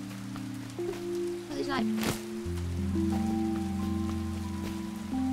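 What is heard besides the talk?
rain falling in the video game Paleo Pines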